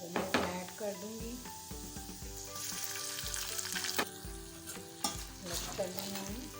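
Boiled chicken and chopped garlic frying in oil, a continuous sizzle with the clatter and scrape of a spoon stirring in the pan, close up, with background music running underneath.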